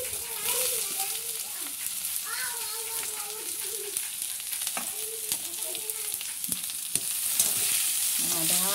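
Onion and curry leaves fry in a pan for a village-style Malvani clam dish, a close, steady sizzle with scraping stirs and a few knocks, while a voice talks over it and children can be heard nearby.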